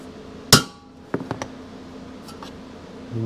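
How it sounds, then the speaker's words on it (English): A single sharp metallic hammer strike on a center punch into spot welds on a Kawasaki F7 Bushwacker battery box rings out, followed a moment later by three quicker, lighter taps, close by with quiet shop noise around. "center punching all these spot welds and trying to drill them out"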